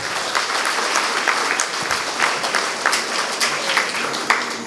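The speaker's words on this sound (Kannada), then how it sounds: "ಒಮ್ಮೆ ಜೋರು ಚಪ್ಪಾಳೆ ತಟ್ರಿ" A crowd at a Kannada spiritual discourse gives a loud, sustained burst of clapping, dense and continuous for several seconds, with no talk over it.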